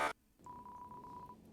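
A cell phone call in the Deltarune video game opens with a short burst of noise, then a thin electronic tone pulses in a broken, stuttering line for about a second, quiet and close.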